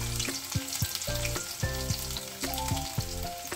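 Garlic and cumin sizzle in hot oil over a high gas flame, a close, crackling fry that runs throughout beneath a steady background melody.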